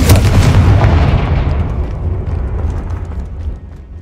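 A loud, booming blast from the Confringo explosion spell in the video game Hogwarts Legacy, starting sharply and rumbling out over a few seconds before fading.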